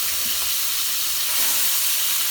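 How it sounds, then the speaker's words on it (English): Bacon frying in a pan gives off a continuous, close sizzle and hiss that stays even from start to finish, with no talking over it. "I've got bacon cooking."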